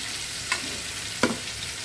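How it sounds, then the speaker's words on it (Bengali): Potatoes fry in hot oil with a steady soft sizzle, broken by two sharper stirring scrapes about a second apart, close and without speech. "এইদিকে আলুটা প্রায় ভাজা হয়ে গেছে"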